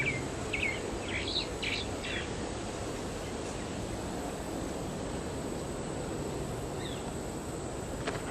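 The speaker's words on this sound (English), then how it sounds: "Looks like cardinals over here." Cardinals near a fence where corn was scattered: a few short, faint chirps early on and one more later, set against a steady background hiss.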